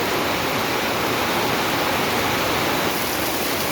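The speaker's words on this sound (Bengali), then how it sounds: "এই দেখো কত জোর বৃষ্টিটা হচ্ছে" Heavy rain pours steadily onto a waterlogged street, a dense, constant roar of broadband hiss that stays loud and unbroken throughout.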